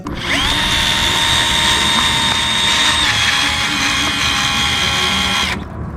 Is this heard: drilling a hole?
yes